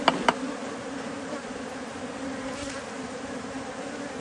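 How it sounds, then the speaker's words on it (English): A steady, low buzz of bees during a honey harvest in Zimbabwe hums throughout, a bee-like drone with a couple of sharp knocks at the start. "Keep out the bees."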